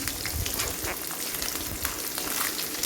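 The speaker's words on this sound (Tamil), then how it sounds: "ஒரு துண்டு இஞ்சி வந்து நான் இப்போ பொடியாக கட் பண்ணி சேர்த்துக்கிறேன் அதுவும் நல்லா வதங்கட்டும்" Chopped ginger and shallots sauté in a pan for banana stem chutney, giving a steady close sizzle of frying with faint scattered crackles throughout, no voices.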